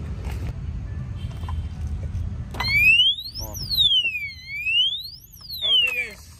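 An anti-theft motorcycle padlock alarm wails with a loud electronic siren, its pitch sweeping up and down in repeated cycles for several seconds after a few clicks.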